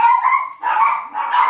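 Several dogs barking in a loud, continuous burst of excited yaps, set off by a doorbell ringing and someone arriving home, with no talk.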